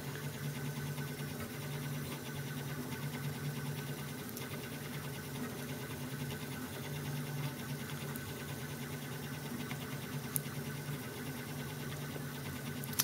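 A Prusa Iteration 2 RepRap 3D printer with T2.5 belts printing an appliance knob, its stepper motors humming and whirring steadily and quietly, with occasional faint clicks.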